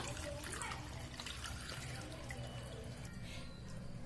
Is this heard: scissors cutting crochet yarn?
no